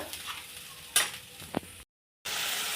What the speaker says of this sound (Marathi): आणि खोबरं धने वगैरे सगळी पेस्ट ही मी टाकून घेते आणि छान परतून घ्यायची अगदी लाल रंग येईपर्यंत